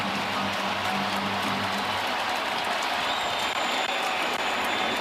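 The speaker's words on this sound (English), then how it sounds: "Crowd into it." A baseball stadium crowd at a Royals versus Yankees game roars and cheers in a broad, steady wash of noise, loud and continuous throughout, with a faint high tone drifting in partway.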